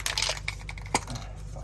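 A spray paint can shaken hard, a quick burst of close metallic rattles and clicks from the mixing ball, with one sharper clack near the end.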